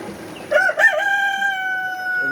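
A rooster of a different breed crows once nearby among layer hens, a loud call that breaks and then holds a long, steady note, with a quiet farmyard behind it.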